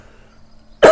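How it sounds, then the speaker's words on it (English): A single sharp cough bursts out near the end of a quiet moment, loud and close to the microphone. "I feel a cough."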